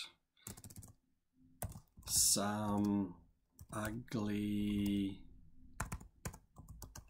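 Computer keyboard typing, quick clicking keystrokes in short bursts between stretches of someone talking over them.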